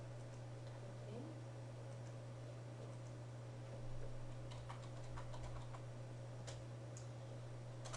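Soft, scattered keystrokes on a computer keyboard click faintly over a steady electrical hum, growing busier in the later seconds.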